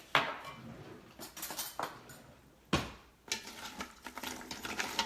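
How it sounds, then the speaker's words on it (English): A utensil stirs South African smoke seasoning in a pot, making faint scraping and clinking noises in irregular bursts, with quiet kitchen sounds between them. "this is the South African smoke seasoning blend. I'm going to give that a stir."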